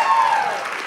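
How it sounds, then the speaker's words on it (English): Applause from a panel audience at the Circle V animal rights event, a dense, steady burst of many hands clapping close by for under a second. "you can clap as much as you want for this panel."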